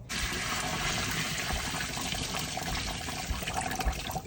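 Steady, full stream of tap water gushing while raw meat is rinsed for broth, a continuous close splashing rush with no talk.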